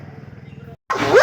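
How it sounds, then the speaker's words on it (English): A dog barks in an angry, agitated run of rapid repeated barks, fairly close, then a louder burst of noise takes over after a brief pause. "Even the dog's angry."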